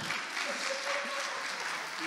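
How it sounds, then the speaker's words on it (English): Steady applause from a youth camp audience, a dense continuous patter of many hands clapping at moderate level with no breaks, some faint voices mixed in. "Look at them all cheering you on."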